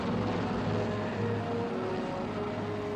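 A big CH-53 helicopter makes a dense, steady roar of engine and rotor noise that holds without a break, heavy and close.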